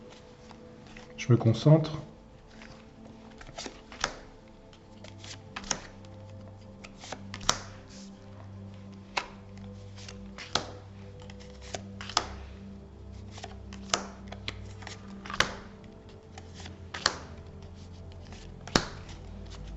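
Tarot cards being shuffled, then laid out one by one on a table, a brief rustling flurry followed by scattered soft taps, with a person speaking quietly over it.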